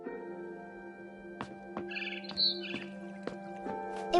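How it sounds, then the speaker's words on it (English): Barn swallow chirping in the video game What Remains of Edith Finch, a few sharp high chirps and trills scattered over a steady low musical drone, fairly faint and with no speech. "Then I heard chirping outside my window."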